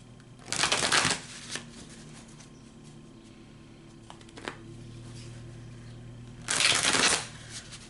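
A deck of message cards is shuffled close by in two loud riffling bursts, one near the start and one near the end, with a few soft handling clicks in between and no speech.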